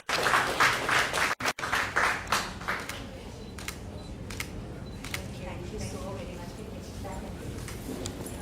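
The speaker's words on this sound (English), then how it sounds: "I request the crowd to give a round of applause." An audience at a conference session gives a round of applause, with crisp, scattered claps loudest at the start and thinning into lighter, sporadic clapping as the room settles, fairly quiet overall.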